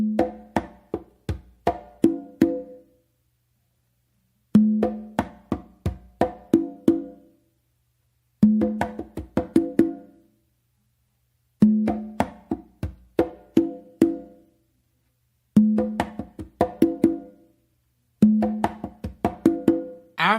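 Congas play a repeating pattern of close slaps, open tones and bass notes, six short phrases of sharp hits separated by gaps of silence, close and dry.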